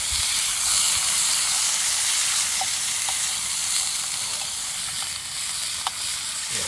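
Onions fry in hot oil over a camp stove at a cold November wild camp in the woods, giving a steady, close sizzle and hiss throughout with a few faint clicks and light stirring.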